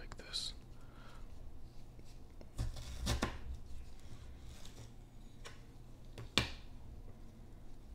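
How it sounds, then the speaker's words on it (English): A knife cuts through a Kit Kat Birthday Cake candy bar with white chocolate and sprinkles, giving a few sharp, close cracks and crunches amid quiet whispering. "Let's try and cut a piece like this."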